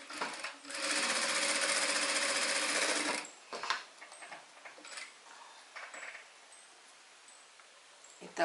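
A sewing machine stitches a fabric seam for a small fish-shaped cloth keychain. It gives one fast, buzzing burst of rattling stitches lasting a few seconds, then quiet handling clicks and faint speech.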